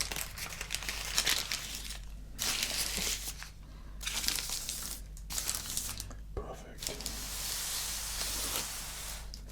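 Subway footlong sandwich wrapping paper crinkles and crumples close to the microphone in bursts, with brief quiet gaps between handlings.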